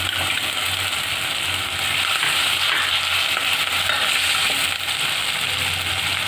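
Capsicum and chopped carrots frying in a pan for Punjabi khichdi, a steady close-up sizzle with faint stirring and no voices.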